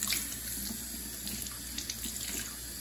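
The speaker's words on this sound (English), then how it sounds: "You can use cold, just regular tap water." Regular tap water runs steadily from a faucet into a sink while a doll's hair is rinsed of conditioner, a constant close hiss and splash with no one talking.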